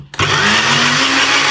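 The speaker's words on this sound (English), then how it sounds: "put the soaked mung bean and rice in a blender" A blender kicks on and runs at high speed, whirring loudly and steadily as it purees soaked mung beans and rice with water into a smooth paste.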